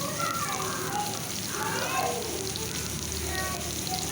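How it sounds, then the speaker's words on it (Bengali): Pieces of rohu fish fry in hot mustard oil in a wok, giving a steady sizzle and crackle with brief louder bursts, close and moderately loud. "এখন একটা একটা করে মাছ আমি কড়াইতে দিয়ে দিচ্ছি।"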